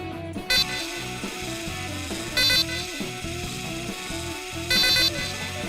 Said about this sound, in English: Or the beeps of his sentry.